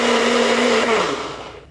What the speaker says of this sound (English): putting things in a blender to make a pestata